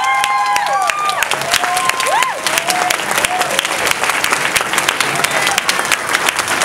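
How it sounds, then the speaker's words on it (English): A standing audience applauds loudly and steadily at an event, with scattered cheers and whistles rising through the dense clapping. "I want you guys to stand to your feet and applaud for Mistress Alexandra Bale."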